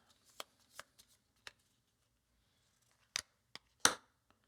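A deck of board game cards is shuffled close up for a solo game session, a series of sharp riffling snaps and brushes in short bursts separated by pauses, with no talking over it.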